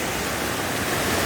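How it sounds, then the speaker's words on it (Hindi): A rain-swollen waterfall on a mountain trail rushes as a dense, continuous roar, loud and close, with no other sounds over it. "ये बारिश के बाद झरना है"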